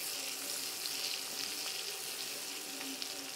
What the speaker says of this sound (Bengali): ডিম ভাজার পর যে তেলটা ছিল এটা দিয়ে রান্না সারব।